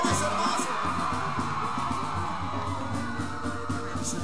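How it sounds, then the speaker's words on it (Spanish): Women in a television variety-show studio audience yell and whoop together, a loud, sustained crowd roar that fills the whole moment without a break. "Escucha el grito de las mujeres"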